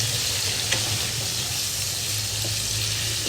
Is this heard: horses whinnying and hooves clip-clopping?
no